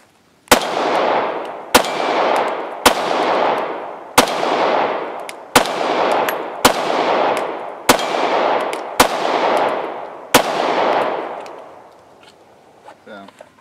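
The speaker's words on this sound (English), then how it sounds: "There's that artillery fire." Distant artillery fire at an outdoor shooting range: nine sharp booms at roughly one-second intervals, each followed by a long rolling echo that fades out, heard alone.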